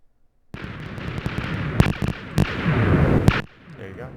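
Cannon shots fired in a video game, sand-based cannon setup with guiders and barrels: a sustained burst of booming, crackling blasts with several sharp louder reports, lasting about three seconds before cutting off, loud and close.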